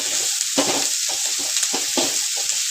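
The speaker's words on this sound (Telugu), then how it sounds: "ఎర్రగడ్డలు అయితే వేసుకున్నాం. ఇవైతే బాగా మగ్గనిచ్చుకోవాలి. గోల్డెన్ కలర్లోకి వచ్చేదాకా మంచిగా అయితే వేపుకోవాలి" Onions fry steadily in a pan, a loud continuous sizzle with stirring scrapes and bursts over it, recorded close and with no talking.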